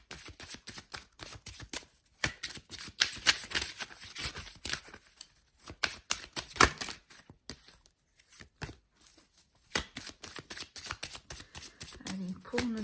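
Oracle cards shuffled and laid out for a tarot reading, a long run of quick papery flicks and slaps with short pauses, close and moderately loud, with a voice briefly heard near the end.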